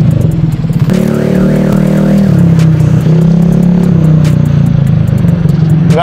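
A modified roadrace motorcycle engine revving loud and close, a sustained droning roar with rising and falling pitch that holds steady for several seconds, no talk over it.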